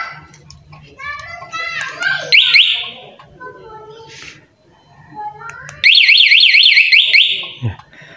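A remote motorcycle alarm on a 2022 Honda Scoopy wails loudly in a rapid rising-and-falling electronic warble, starting abruptly after children's voices and chatter, then cutting off.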